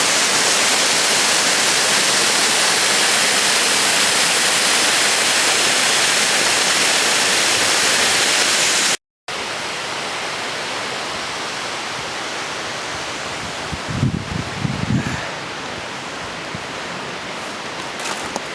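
Dense, even roar of an 80-foot waterfall in the backcountry, loud and close for the first half, then a quieter, more distant rush of falling water after a brief cut.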